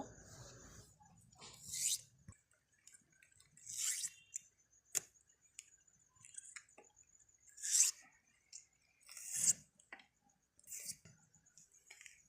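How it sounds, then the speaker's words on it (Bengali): Spring onion stalks being sliced with a knife, sounding as a series of crisp, close cutting crunches at an irregular pace with quiet gaps between them, no voices present. "এই পেঁয়াজ কলিটাকে আমি এখন ফালি করে কেটে নেব"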